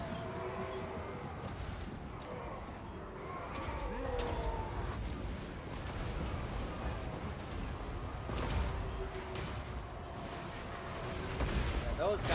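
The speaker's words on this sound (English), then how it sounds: "he is getting bombarded by our artillery" Dwarf artillery bombardment in the Total War: Warhammer battle game, heard as a dense, steady roar of distant booms and battle rumble that continues through the whole stretch at low level.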